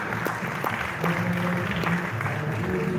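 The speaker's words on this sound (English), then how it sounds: "We give an applause to that." Steady applause from a crowd at a literature and science award ceremony fills the space, dense clapping throughout with some voices mixed in underneath.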